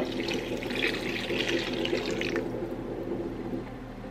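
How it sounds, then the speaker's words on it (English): Four cups of water pour into a pot set on low heat on a kitchen stove for a shelf-stable canned chicken meal, a steady close splashing stream that runs for a little over two seconds and then tapers off. "4 cups of water."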